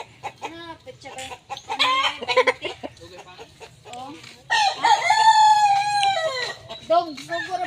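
Chickens cluck and a rooster crows loudly nearby, the long harmonic crow rising over scattered clucking, with people talking in the background.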